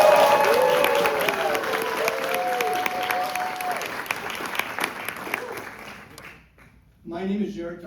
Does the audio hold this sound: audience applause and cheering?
yes